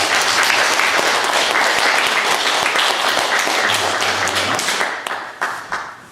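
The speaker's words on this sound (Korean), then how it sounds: "우리 이희용 집사님께도 박수" A church congregation applauding at a New Year's Eve service, sustained dense clapping from a large crowd that thins out into a few scattered claps at the end.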